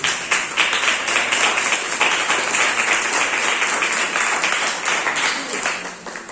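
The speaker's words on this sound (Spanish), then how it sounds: "Denle un aplauso porque Él se lo merece." A church congregation applauds during a sermon, a steady wash of many hands clapping at once, loud and sustained without a break.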